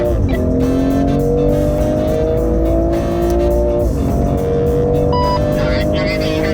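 A BMW car drives onto a driving-center track, its engine a loud, steady hum with rising tonal revs that dip and climb again, alongside a speaking voice.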